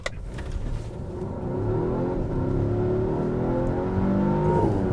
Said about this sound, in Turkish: Sadece motor ve şanzımanı dinleyelim.